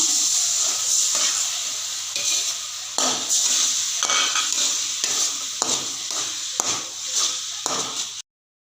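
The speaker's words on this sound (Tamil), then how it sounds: "இது கீரை வதங்கிருச்சு நான் அதில் ஊற்றுறோம்" Beaten egg poured over wilted spinach and fried in a pan, a loud continuous sizzle with rhythmic stirring scrapes and knocks of the utensil against the pan, close up and without voices.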